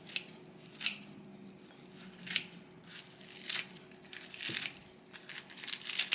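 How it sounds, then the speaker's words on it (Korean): Kitchen scissors snip through vegetables for a vegan poke bowl, a steady series of crisp cuts with light crinkling between them, close and moderately quiet, no voices. "가위로 야채를 잘라서 넣어줄게요."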